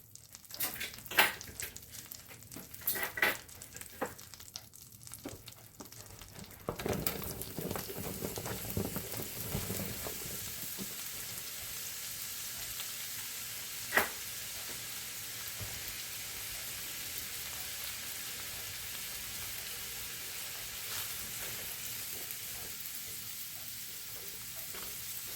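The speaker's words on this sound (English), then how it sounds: "Now we're ready for the pan. Okay, in goes the mushrooms." Mushrooms go into a pan and start frying. A few clattering knocks come first, then a steady soft sizzle with one brief click, quiet and close.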